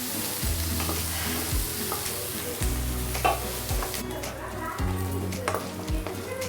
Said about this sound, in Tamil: இது நல்லா ப்ரௌன் கலராக வதங்கணும்.